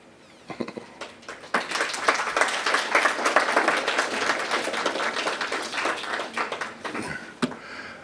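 Audience applause at a book talk: a few scattered claps at first, then a full burst of clapping swells and holds steadily before thinning to isolated claps at the end.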